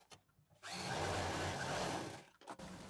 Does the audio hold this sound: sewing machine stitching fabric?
yes